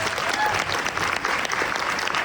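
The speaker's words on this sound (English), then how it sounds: "Have a round of applause." Audience applause closing a food waste summit panel, a brief, loud, unbroken burst of clapping from a full room.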